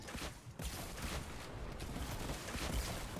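Rapid, repeated bazooka rocket launcher blasts in a multiplayer deathmatch video game, a dense, loud, continuous barrage of explosive booms with no clear gaps.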